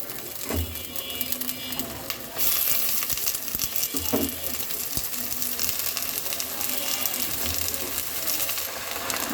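Eggplant, potato and beans tipped into a pan of lightly fried onions for a small-fish charchari, giving a steady loud sizzle with a sharper burst as the vegetables hit the oil, plus a few clinks, no talking.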